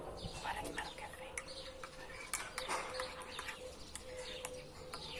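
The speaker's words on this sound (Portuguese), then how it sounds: "Estão a ouvir os passarinhos?" Birds chirp and tweet outdoors in a busy, overlapping chorus, moderately faint, with a low background hum and occasional cooing.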